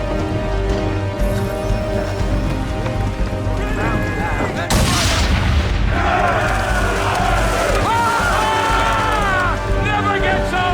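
Powder barrels blasting apart under swivel gun fire in Assassin's Creed 3, booming explosions layered over music and ship combat, with a big burst near the middle and voices talking.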